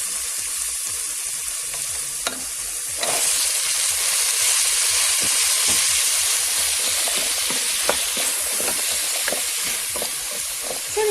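Okra tipped into a hot pan with tomatoes for a Turkish meat-and-okra stew, setting off a loud, steady frying sizzle with scattered stirring clicks and scrapes throughout, no talking.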